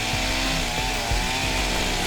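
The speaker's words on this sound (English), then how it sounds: "So they break out the chainsaw." A chainsaw runs steadily and loudly while cutting through a tree blocking a doorway, a close, continuous buzzing drone with no voices.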